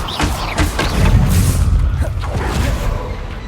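Stupefy spell impact in Hogwarts Legacy, a heavy booming thud with crashing rumble that swells and lingers over a few seconds, loud and close amid game combat noise.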